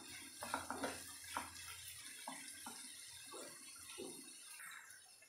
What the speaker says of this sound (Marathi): पाणी घालते मी.